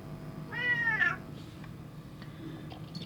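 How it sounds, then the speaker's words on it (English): One clear, drawn-out cat meow near the start, close and moderately loud, followed by faint room noise and small clicks. "sorry for the cat making noise."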